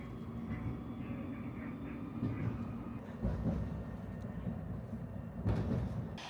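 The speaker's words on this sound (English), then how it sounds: "I'm going to enjoy a longer ride on this tram now as I head back up the line to Nottingham Station" Nottingham NET tram 207 rides along the line, heard from inside as a low, steady rumble with occasional rattles and bumps and a brief louder clatter near the end.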